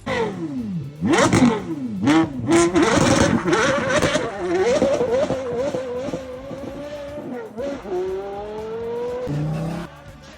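A Bugatti fitted with a Valvetronic aftermarket exhaust revs loudly and close, with sharp rising and falling engine sweeps, crackling bursts, then a sustained climbing tone before dropping off.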